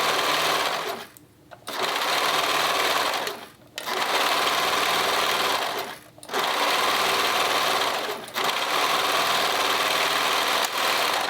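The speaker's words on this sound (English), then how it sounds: "As I'm sewing my cuff, I'm kind of stretching it to fit a little bit." Sewing machine stitching a knit cardigan cuff while the fabric is stretched to fit, a loud, close, steady motor whir running in long bursts broken by three or four brief pauses, with no talking.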